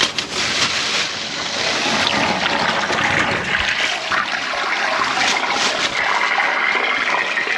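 Two household toilets flushing during a leak check after a repair, a loud continuous rushing and gurgling of water filling the whole stretch, close by, with no talk.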